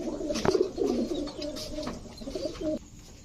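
A female Maxi racer pigeon coos in a soft, throaty run of repeated low notes, close and fairly clear, ending abruptly after about three seconds.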